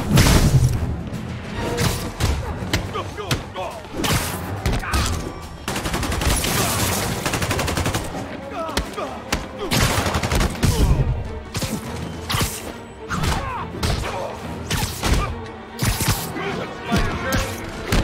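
A dense, loud barrage of gunfire fills a storefront robbery scene in Spider-Man Remastered, with rapid overlapping shots, thumps and crashes continuing throughout, while voices speak over the action.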